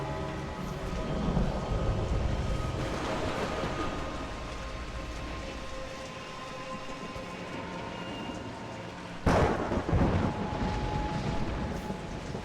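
Steady rain hisses in the video game Rise of the Tomb Raider, with a low rumbling wash throughout and a sudden sharp crack of thunder near the end before the rain continues.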